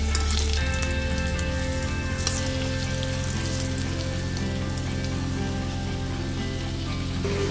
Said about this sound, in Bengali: এবারে ভালো করে আমি এটা লাল লাল করে ভেজে নেব।